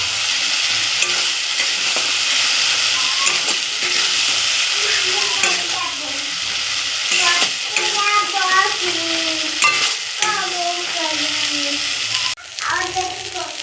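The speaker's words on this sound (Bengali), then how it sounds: "এবার এটাকেও ভালো করে কষিয়ে নেব।" Spice paste of ground cumin, coriander, turmeric and salt frying in oil for prawn malai curry, a loud continuous sizzle with stirring scrapes, and a voice speaking over it through much of the stretch.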